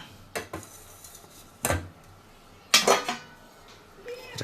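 Crucian carp soup is transferred into an insulated lunch box, marked by a few sharp clinks and knocks of metal containers and utensils, separated by quiet gaps, close by.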